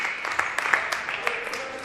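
Crowd applause in a high school basketball gym on senior night for the Windham Jaguars after a win over Nashua South, with a steady wash of clapping and scattered sharp claps throughout.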